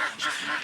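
Ducks in a farmyard poultry pen give a short, harsh, nasal quack, close and clear with no talking over it.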